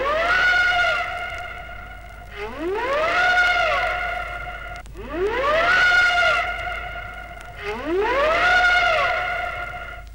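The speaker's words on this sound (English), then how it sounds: "She's fitted with a steam naval type siren which sounds like this." A steam naval-type siren on a ship on the River Mersey sounds four times, each blast rising in pitch then holding a loud, harmonic wail before cutting off, with echo between blasts.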